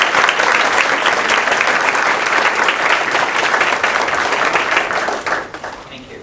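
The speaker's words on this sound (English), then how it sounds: "can we please give them a big round of applause?" Loud, sustained applause from a large audience at a valedictory graduation ceremony, dense clapping close and full for about five seconds before tapering off quickly at the end.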